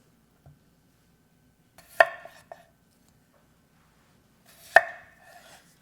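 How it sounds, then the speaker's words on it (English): Raw chicken cut into chunks with a knife on a cutting board in a quiet kitchen: two sharp, close chops, each followed by a few lighter taps, with faint clicks between them. "we're going to cut them into chunks"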